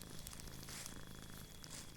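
A cat purring softly while asleep beside a person near a cowshed in the hills, a low steady rumble that runs without a break, faint and close.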